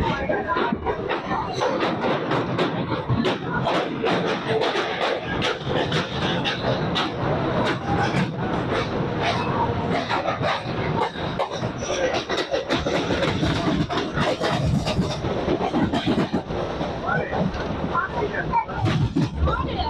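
A local suburban train from Chennai Central, bound for Sullurupeta, runs along the rails with a loud, steady rumble and rattle. Dense clatter fills the whole stretch without pause.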